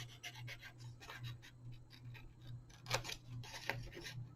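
Scissors snip repeatedly through paper along a drawn outline, a steady run of soft close cuts and rustles with a couple of sharper crisp snips near the end, over a low constant hum.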